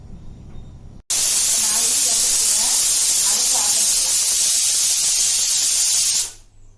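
A loud, continuous hiss of steam jetting from a pressure cooker whistle while cooking chickpeas, sustained for about five seconds before cutting off, with faint kitchen sounds before it.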